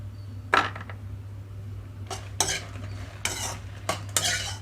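Fried dried red chillies are scraped from a pan onto a plate with a metal spoon, giving four or five short, bright clattering scrapes over a steady low hum, close by, with no talk.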